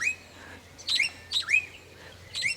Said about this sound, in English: That bird's having a great old time.